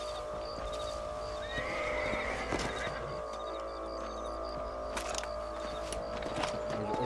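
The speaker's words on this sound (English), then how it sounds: "Let's get back on the horses and see what else is going on." Horses neigh and whinny in the Red Dead Redemption video game, a rising whinny standing out over a steady outdoor ambience with faint clip-clop, fairly quiet and somewhat distant, with no talking.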